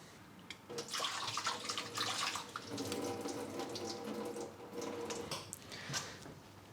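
Cooking liquid from tender braised ribs is poured off into a sink in a soft, continuous splashing gush that stays steady and fairly quiet, with no talk.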